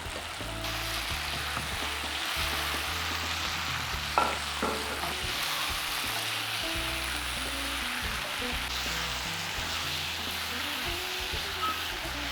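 Onion, spinach and tomato fry in a pan for rajma palak curry, a continuous close sizzle with occasional stirring scrapes, all beneath a steady rhythmic tonal bed and without any talking.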